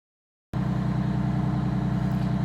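A Detroit Diesel 6V92TA bus engine fires after a cold start and settles into a loud, steady, close-up idle with a low rhythmic throb that holds unchanged, following a brief moment of silence.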